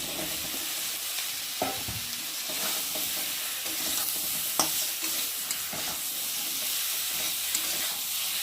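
Eggplant pieces and potatoes sizzle steadily as they fry in a pan, with scattered scrapes and clicks from stirring over a continuous close crackle, no voices.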